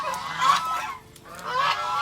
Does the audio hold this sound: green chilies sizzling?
no